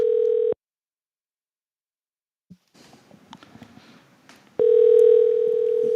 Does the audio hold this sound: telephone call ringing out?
yes